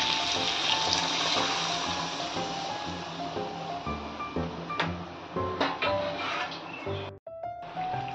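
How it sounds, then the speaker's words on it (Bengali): Warm water poured into a simmering potato and green pea curry in a home kitchen, a steady splashing pour running for several seconds before a brief break and clatter near the end. "এই সময় আমি উষ্ণ গরম জল দিচ্ছি।"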